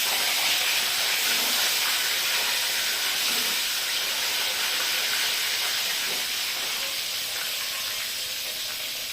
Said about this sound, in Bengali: এবার ডিমগুলো লাল লাল করে ভেজে নেবেন একটু